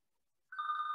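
A telephone starts ringing partway through, a steady electronic trill that sounds close and clear after a short stretch of near silence.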